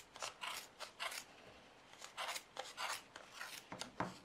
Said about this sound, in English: we're just going to snip down the middle of these